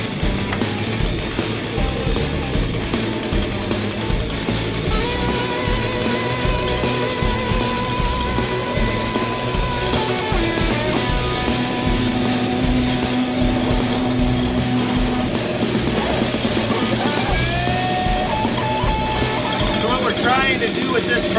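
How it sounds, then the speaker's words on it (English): A leaf blower idling steadily while blowing excess sand off porcelain or stone deck tiles, a loud continuous engine drone close by with talking over it. "You're just going to let the blower idle and blow in the center of the tile and kind of waft the sand away."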